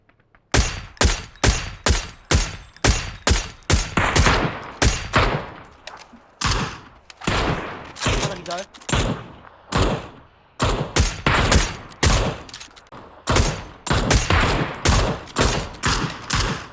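Rapid bursts of video game gunfire, loud and close, repeating in quick volleys almost without pause, with sharp individual shots cracking between the sustained fire.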